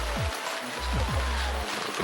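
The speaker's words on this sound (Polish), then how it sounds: "Dzisiaj to chyba trzecia albo czwarta burza." Steady rain falls during a thunderstorm at a lake, a dense continuous hiss with low rumbling swells underneath, heard up close and without voices.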